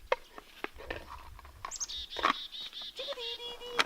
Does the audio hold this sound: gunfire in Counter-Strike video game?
no